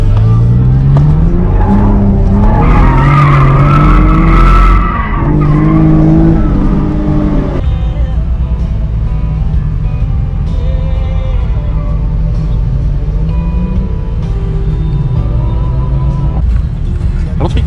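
An automatic V6 Camaro drifts on a track, its engine loud and close with rising and falling revs, tires squealing under sustained load, heard from inside the car.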